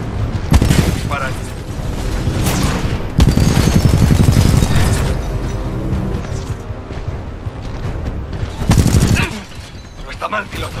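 Heavy gunfire from Titanfall 2 erupts in loud bursts, dense automatic fire with booming impacts, pausing and resuming in several rapid volleys over a constant roar.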